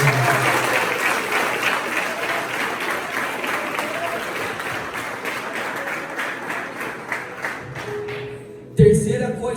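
A church audience at a youth gathering claps in sustained, dense applause that slowly thins and fades, ending in a brief clatter near the close.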